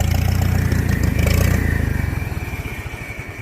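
A Farmall H tractor engine runs loud and close with a rapid, chugging exhaust beat that slows and softens toward the end.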